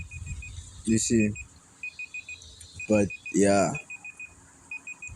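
Alarm beeping in a room, a repeated short electronic tone pattern sounding at moderate level between and under bursts of conversation.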